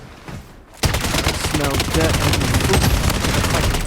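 Sustained automatic gunfire from the Blood Strike shooting game, loud and continuous, beginning abruptly after a brief quieter lead-in and running as dense rapid bursts, with a voice talking over it.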